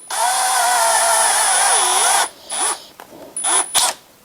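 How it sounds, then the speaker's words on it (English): A power drill with a stepped bit bores a 20mm hole through the centre of a central heating inhibitor cap, a loud steady whine for about two seconds, then several short bursts and stops, close up with no talking. "I'll drill a 20mm hole right in the middle of the cap."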